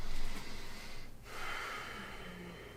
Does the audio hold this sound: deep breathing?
yes